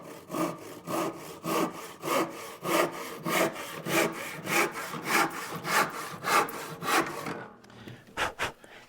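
Hand saw crosscutting a wooden board, about two dozen steady rhythmic back-and-forth strokes, close and loud, then a few final strokes after a short pause, with no talking.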